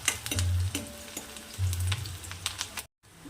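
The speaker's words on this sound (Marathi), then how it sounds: "कांदा ॲड करू झाले मोहरी तडतडली आणि कांद्याला छान परतून घ्यायचं आहे" Chopped onion sautéing in oil after mustard seeds have spluttered, for sprouted moong dry bhaji: close sizzling with stirring scrapes and a few clinks, then a brief cut to silence before the frying resumes.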